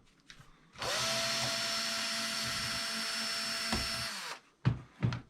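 A cordless power drill spins up with a high, steady whine for about three and a half seconds, then winds down, followed by a couple of handling knocks.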